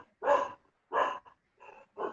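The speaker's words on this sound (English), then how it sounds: "Whose dog is barking over there?" A dog barks four times from nearby in short, sharp bursts with brief silences between, the last two a little softer, with no talking.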